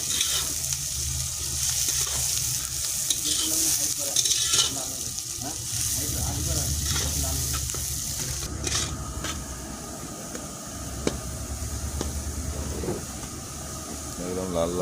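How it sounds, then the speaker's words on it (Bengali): Onions frying and being stirred in a pan for shahi biryani, a steady sizzle with scraping and stirring clatter running the whole time under nearby household noise. "এটা এখন লাল লাল করে ভাজা হবে।"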